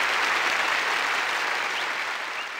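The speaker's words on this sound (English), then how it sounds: "Hold the applause." Applause from a crowd of moles in the game Omori fills the whole short stretch, a dense, steady clapping that fades slightly at the end.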